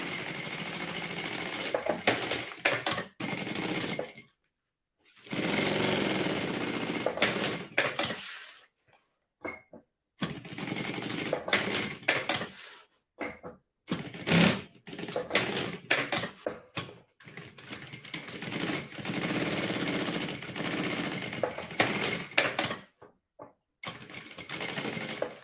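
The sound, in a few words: sewing machine stitching the side seam of a bag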